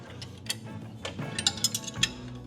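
A wrench works loose the front motor mount bolts on a homemade-intake street car engine, giving a quiet run of metallic ratchet clicks and clinks over a low background hum, close by and without talk.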